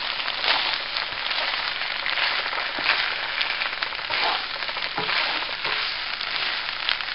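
Cabbage, chicken and pasta with tomato sauce fry in a pan while being stirred, making a loud, continuous close-up sizzle with soft scraping surges throughout, and no voices.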